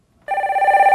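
Telephone ringing for an incoming call on a live stock-consultation broadcast: one loud, close electronic ring tone that starts abruptly after a brief silence and holds steady with a slight warble, no voices.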